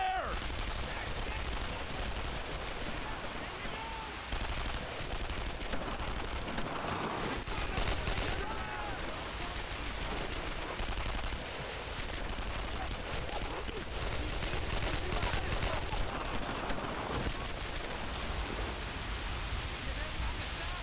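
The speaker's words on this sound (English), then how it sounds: "Fire it! Start firing there!" Sustained bursts of gunfire and automatic weapons fire from a World War II squad battle in the video game Brothers in Arms: Earned in Blood, a dense, continuous barrage throughout with voices shouting orders over it.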